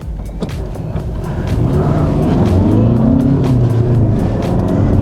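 A third-generation Skoda Superb diesel engine revs up and accelerates, its low drone rising in pitch and growing louder, close by.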